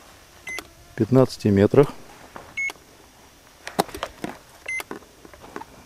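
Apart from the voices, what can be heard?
DEEPGEOTECH magnetometer beeping a steady detection signal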